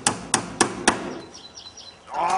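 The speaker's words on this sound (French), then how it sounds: "Oh, passe le marteau." A hammer strikes four evenly spaced, sharp blows in a workshop, loud and close, followed by quieter scraping and shuffling, then a rising clatter at the end.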